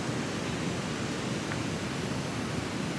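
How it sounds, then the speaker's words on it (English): A small waterfall in a woodland stream gives off a steady, even broadband rush of falling water, moderately loud and unbroken throughout. "Oh, there's even a little waterfall right over there."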